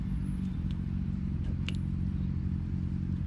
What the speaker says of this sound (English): It sounded like a motorcycle.